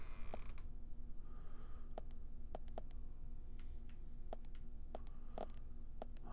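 A door creaks open in the video game Deadly Premonition. The quiet, drawn-out creak sits among sparse ticking mechanical clicks, with no speech.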